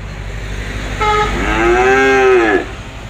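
One long, close bovine moo at a cattle farm in Trà Vinh, Vietnam, swells and bends over about a second and a half above a steady background hum.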